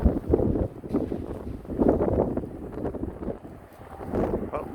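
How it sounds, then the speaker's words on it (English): Strong, cold wind with blowing rain buffets the microphone on an allotment in rough, rumbling gusts that rise and fall, loud and close throughout with no voices. "it's really windy, quite cold, bit of rain blowing in the breeze"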